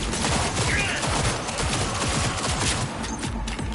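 Continuous automatic gunfire in Cyberpunk 2077 pounds in fast repeated bursts, loud and close throughout.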